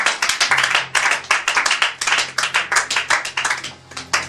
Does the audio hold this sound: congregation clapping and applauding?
yes